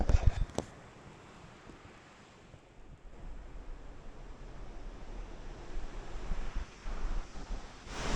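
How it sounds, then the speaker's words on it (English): A waterfall by the old Magnolia Mill on the Wheeler Lake Trail in Colorado, heard as a steady broadband rush of falling water, moderately loud and continuous, with a few handling knocks at the start and some wind buffeting. "You got rad waterfalls right here."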